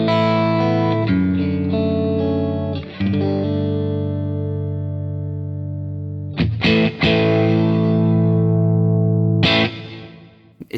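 Electric guitar through a 6V6 amp with preamp gain around 6, loud and driven, playing long sustained chords that ring out, then sharp new strums near the middle and end of the passage.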